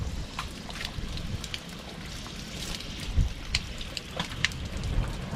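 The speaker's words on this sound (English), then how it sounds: "I have never seen hail come off the roof like snow." Hail beats on a house roof outside a kitchen door in freezing weather, a dense steady patter with scattered sharper ticks and one low thump near the middle.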